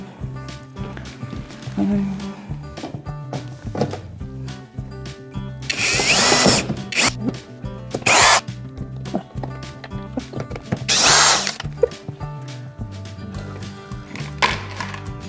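A power drill unscrews the screws on a Hisense washer-dryer during a repair, with three short, loud whirring bursts separated by pauses, over steady background music and handling clatter.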